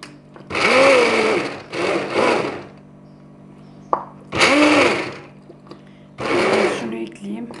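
A kitchen blender purees chard soup for babies in loud whirring bursts, four runs of about a second each separated by short pauses, close and dominant.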